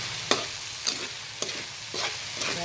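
A spoon or spatula stirs food in a frying pan with a steady sizzle underneath, spaced scraping strokes landing roughly every half second, close and clear with no voices.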